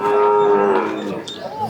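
A cow at a weekly native-cattle market lets out a loud, close moo that slides and fades, followed by a shorter low call, with market noise faintly behind.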